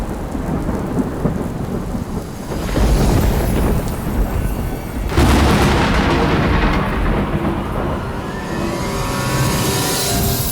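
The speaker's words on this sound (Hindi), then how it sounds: "इतनी तेज बारिश हो रही है बाहर" Heavy rain pours down outside in a thunderstorm, a dense, loud, continuous roar broken by rumbling thunder swells, with no voices.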